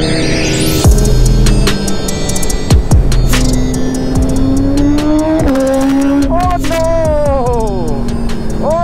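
Superbikes with titanium exhausts on a Kolkata street, revving loudly with sharp crackling pops like firecrackers, several rising and falling engine sweeps and bursts over a busy road background.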